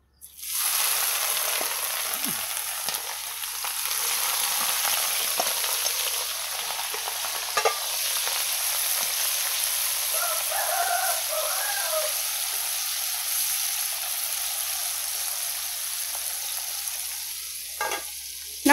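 Shredded oyster mushrooms fry in a pan of hot oil, a loud, steady crackling sizzle that rises sharply at the start and holds for the whole stretch, with occasional stirring clatters and no talk.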